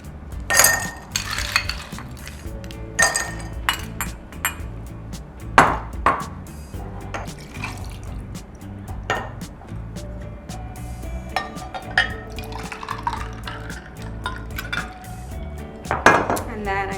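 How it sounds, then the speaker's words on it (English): A matcha latte with oat milk over ice is stirred in a glass, with scattered clinks and rattles of spoon and ice against the glass at varying loudness, close by and without talk. "And then I just give it a final swirl, and that's it."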